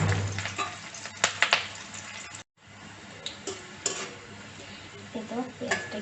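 Onions fry in a pan for a flattened-rice (chira) biryani, a soft steady sizzle broken by the clatter of a spoon stirring against the metal and a brief dropout partway through.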